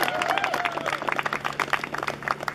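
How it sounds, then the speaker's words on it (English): Audience applause at a bone marrow foundation charity walk, moderate clapping with distinct individual claps and a brief voice near the start. "Let's give him a round of applause."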